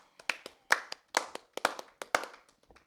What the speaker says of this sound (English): that golf clap out of here, Jason.